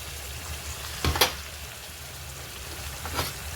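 Green chili and garlic paste hitting a hot pan for mutton kardi bhaji gives a soft, steady sizzle, with two brief spluttering bursts rising over the quiet frying hiss.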